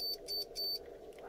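A tester checking a lead on a Hailong 36V lithium-ion battery charger gives three short, thin electronic beeps in quick succession, faint and close, followed by quiet.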